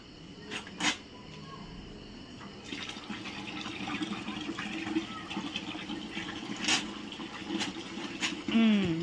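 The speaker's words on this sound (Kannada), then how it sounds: "ನೀರು ಬಿಡು ಬಕೆಟ್ಗೆ." Water running from a tap into a bucket during a Holi celebration, a continuous splashing fill that grows louder and fuller over several seconds, with a few brief knocks and background noise.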